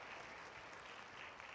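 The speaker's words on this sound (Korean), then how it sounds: "박수로 환영해 주세요." Applause at a school graduation ceremony in a church setting, a short, steady burst of clapping from an audience welcoming guests, heard on its own without voices.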